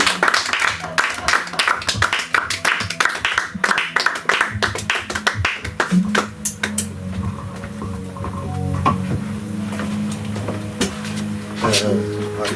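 A church congregation breaks into dense, close applause, many hands clapping quickly for several seconds. It then fades into a softer murmur with faint taps.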